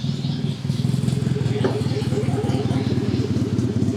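A turbocharged Toyota Camry engine on its first startup, running with a steady rapid low throb and a clattery idle, loud and close, with a voice speaking over it.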